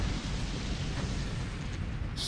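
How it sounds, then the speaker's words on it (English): A dense rumbling boom of explosions in the video game Nier fills the clip, a continuous low roar with crackle, steady and fairly loud. "So many pretty little explosions."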